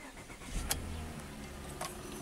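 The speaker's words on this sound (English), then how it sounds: "So now let's start the car up." A Mazda car engine cranks and starts after a battery disconnect, heard fairly quietly as a steady low rumble with a couple of brief sharper bursts.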